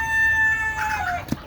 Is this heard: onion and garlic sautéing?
no